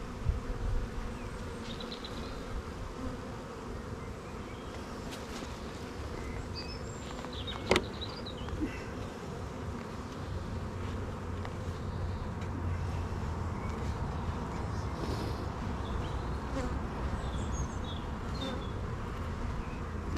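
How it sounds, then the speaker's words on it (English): Honeybees from an opened hive with fresh comb frames and young bees, a dense, steady buzz close by with individual bees droning past, no talking. "But I find a lot of young bees."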